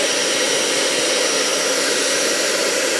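A hair dryer blows steadily and loudly over handmade paper, a continuous close airy roar with a constant whine, unbroken and with no talking.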